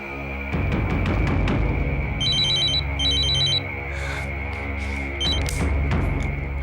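A telephone bell rings in bursts, loud and close, in two repeated trill groups over a steady background tone and music, with no talk.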